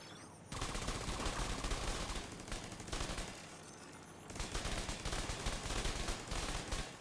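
Automatic turret fire in The Division 2, a dense sustained burst of gunshots that starts abruptly, drops briefly mid-clip and resumes, loud and continuous with no talk.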